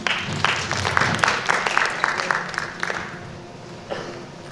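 An audience at a student science presentation event applauds, a dense wash of clapping that holds steady for a few seconds before fading, with some voices mixed in.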